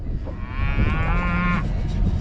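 A cow moos loudly nearby, one long drawn-out low call over faint background noise.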